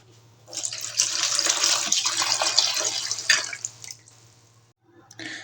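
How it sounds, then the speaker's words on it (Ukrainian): Cold water pours steadily from a tap into a pot around a glass jar of cobs of corn being preserved, a close splashing stream that swells, then thins and stops near the end. "Навколо заливаємо холодну воду."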